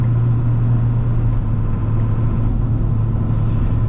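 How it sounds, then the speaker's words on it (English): A 1997 Ford F250 Powerstroke turbo diesel engine drones with a deep, steady rumble from inside the moving truck, holding a constant note at higher RPM with overdrive off, loud and continuous with no speech. "Overdrive off again, RPMs kick up."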